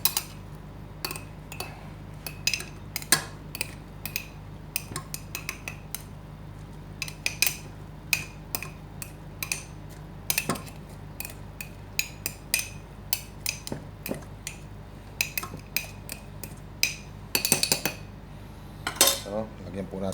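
Fish being placed into a glass jar for burong kanin, fermented rice with fish, heard as many quick clinks and taps of glass and utensils scattered irregularly, close and fairly quiet, with no talk.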